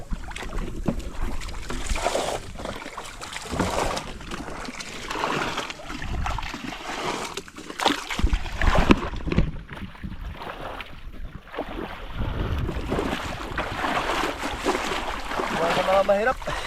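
A small fishing boat rocks and sloshes on water after a typhoon, with splashing and creaking mixed with gusty wind buffeting the microphone, while people talk nearby.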